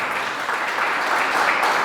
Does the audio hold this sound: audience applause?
yes